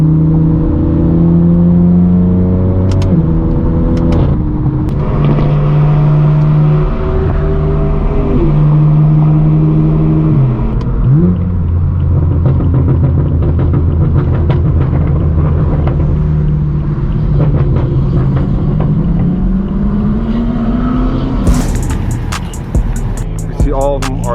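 A straight-piped BMW M4 F82 drives with a loud, raw exhaust, rising and falling through repeated revs and gear changes. The engine stays close and dominant throughout, with a sharp burst of crackle near the end.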